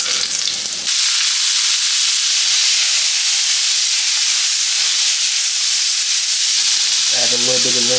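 Garlic hits very hot oil with a sudden loud, continuous sizzle that stays intense throughout, close up and with no talk, before a brief clatter at the end.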